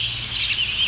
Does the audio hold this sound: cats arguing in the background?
no